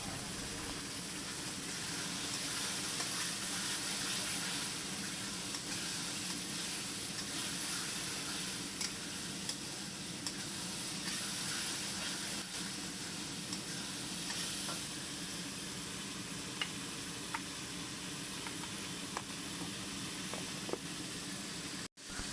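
Special garam masala spices sizzle steadily in a hot pan, a continuous close frying hiss with faint stirring ticks throughout and no voices.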